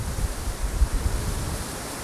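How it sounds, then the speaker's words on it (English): Steady, rushing wind buffets the microphone with low rumbling gusts throughout during a snowstorm in Montana, with no other sounds. "as you can hear the wind, it's windy"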